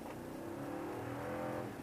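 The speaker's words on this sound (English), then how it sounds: "the engine noise can be quite, you'll notice it in this truck" Steady engine hum from a 2014 Toyota Tundra 1794 Edition pickup truck heard from inside the cab, a quiet, continuous low drone with no speech.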